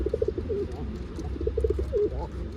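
Soft, repeated wild pigeon coos in short bursts over a low, steady background rumble, close by.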